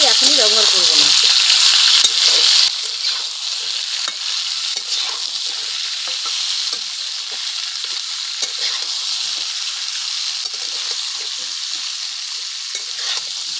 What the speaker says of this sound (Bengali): এবারে কুমড়ো আলুটা যখন ভাজবো